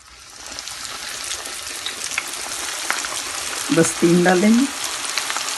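Raw chicken frying in a pan over medium-low heat gives a steady, close sizzle throughout, with a brief louder stirring or clattering moment near the end and a few soft words spoken.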